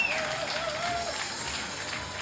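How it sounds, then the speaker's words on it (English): Spectators at an outdoor archery venue in Paris give a standing ovation for a recurve archer before a world championship quarterfinal, a steady wash of applause and crowd noise with faint whistles over it. "You can see him getting a standing ovation from the crowd here in Paris"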